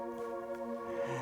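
A sustained Nexus Ambient Pad 3 synth pad holds layered chord tones through the break of an electronic dance track, steady and moderately loud, with a low note entering near the end.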